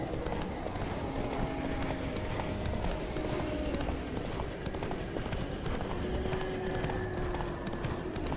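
A horse gallops in The Witcher 3, its hoofbeats a steady clip-clop under in-game music and ambience, moderately close, with some voices mixed in.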